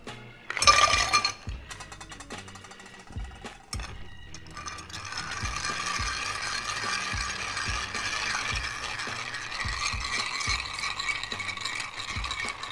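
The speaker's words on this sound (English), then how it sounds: "So just fill your mixing glass with ice and then stir it for 40," Ice clinks and rattles as it is dropped into a mixing glass for a maple rum Old Fashioned, then a bar spoon stirs it in a continuous rhythmic rattling swirl, close and loud, with no talking.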